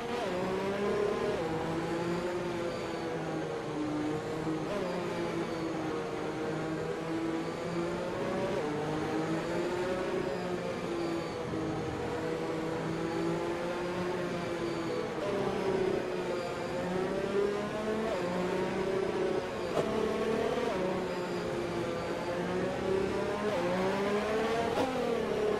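F1 cars in the F1 2021 racing game accelerating as a pack after a safety car restart at Imola: loud, continuous high engine whine with overlapping rising and falling revs for the whole stretch, no talk.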